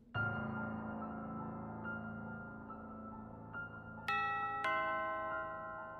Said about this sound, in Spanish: la campana de la puerta de la mansión Dobson resonó con fuerza